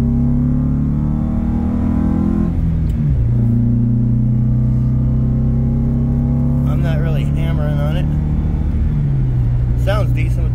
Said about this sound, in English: Sounds decent with that muffler, whatever that muffler is.